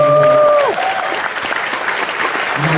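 A large convention panel audience applauds and cheers loudly for Bobby Campbell at New York Comic Con, dense continuous clapping with crowd whoops, while a sustained musical tone fades out early on.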